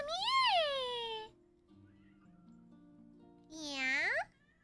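A cat named Balthazar yowls twice in loud, drawn-out meows, one at the start and one near the end, with a quiet room hum in the gap between.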